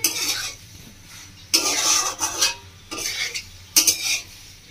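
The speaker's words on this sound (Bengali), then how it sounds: "এবার ভালো নাড়াচাড়া করে নেব" A spoon stirs paneer pasta in a pan in several scraping, clinking bursts separated by short pauses, close and clear with no talk.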